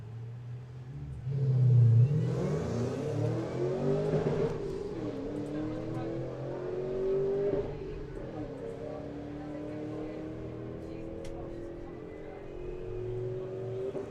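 Drag racing run at a Summer Nationals event pitting a Mini against the Bad Penny Mustang, with engines revving and accelerating in a loud rumbling pass under an announcer's commentary.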